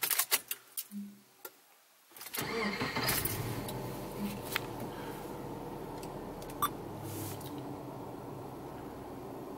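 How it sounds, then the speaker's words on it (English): A few clicks, then a car engine cranks and starts, settling into a steady idle hum with faint occasional ticks. "if I turn the car back on"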